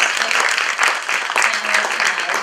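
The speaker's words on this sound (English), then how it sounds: "So first I want to have a round of applause for our fantastic" An evening audience applauds a fashion industry panel, a dense, steady burst of many hands clapping at moderate loudness.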